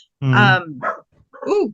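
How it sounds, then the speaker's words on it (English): A pet dog indoors lets out a few loud, close barks in quick succession, ending in a rising whine-like bark, with a faint voice murmuring around them. "that was my dog."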